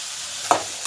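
Onions sizzle in a pan for chicken curry, a brief close frying hiss with a single stir or scrape midway.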